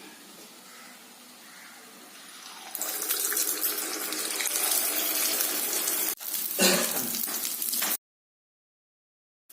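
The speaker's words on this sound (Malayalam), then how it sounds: "ഈ മാവ് കോരി ഓരോ കുഴിയിൽ ഒഴിച്ചിട്ട് വറുത്തെടുക്കുന്നു." Dosa batter spooned into the hollows of an unniyappam pan of hot oil, breaking into a loud, close, bubbling sizzle after a quiet start, with a brief break before the sizzle stops abruptly.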